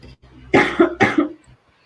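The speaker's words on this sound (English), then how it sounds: "So excuse me while I cough it out" Two harsh, close coughs in quick succession from allergies, with a throat-clearing rasp between them, then quiet.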